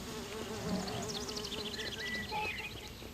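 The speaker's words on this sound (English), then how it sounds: "I think those bees sounds are actually in the game." Bees buzz in the video game Sudeki, a droning insect hum over game ambience with faint chirpy tones layered on top.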